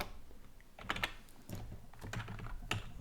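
Keys clatter on a computer keyboard in short, uneven bursts of clicks, close and fairly quiet, with a few louder taps standing out and no talk.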